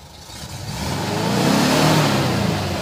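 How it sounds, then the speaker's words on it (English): A Volkswagen bus engine idles steadily at a little under 1,000 RPM, then revs up and climbs to a louder, fuller roar before easing slightly, heard close with no talking. "She revs up good. She's really powerful."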